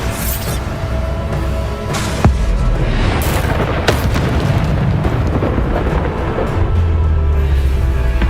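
Bombarda spell explosions in Hogwarts Legacy, heavy booming blasts with sharp cracks repeating over a dense rumbling roar, loud and close.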